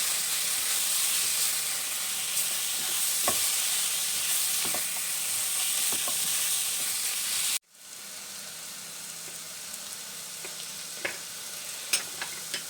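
Spices (salt, thyme, cumin, black pepper) stirred into a sizzling pan for vegan kokoreç, a steady loud frying hiss with scattered scraping clicks, briefly cut then resuming quieter with occasional spatula taps.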